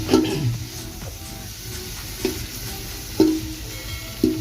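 Vegetables seasoned with salt, turmeric and cumin sizzle in a pan, stirred with a few distinct scraping strokes over a continuous close frying hiss.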